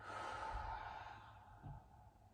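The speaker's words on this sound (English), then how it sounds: "Deep breath in. Deep breath out." One slow, deep breath is drawn in and let out with a soft, airy rush close by, during a quiet guided exercise with the leg raised.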